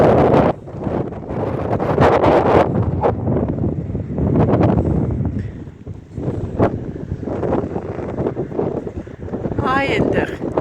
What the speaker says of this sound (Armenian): Ուժեղ քամի էր, աղմուկը շատ էր